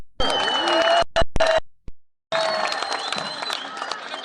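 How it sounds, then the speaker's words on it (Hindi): Crowd at a political rally jalsa in Pishin claps and cheers in loud bursts, cut by brief gaps, then resumes as sustained applause with shouting. "एक बड़ी ताली तो बनती है ना"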